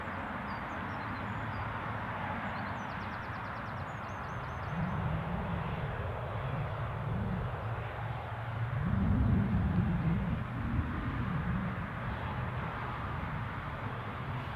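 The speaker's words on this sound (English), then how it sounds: "Got a Ryanair going around for another dart at it." A Ryanair airliner going around at Newcastle airport, a steady broad engine roar that swells louder midway and rumbles on throughout, heard alone from a distance.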